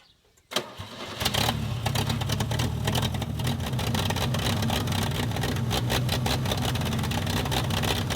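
A Woods T308 backhoe engine cranks and catches after a short silence, then settles into a loud, steady, rumbling run that continues to the end.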